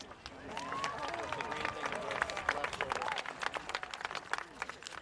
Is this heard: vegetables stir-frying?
no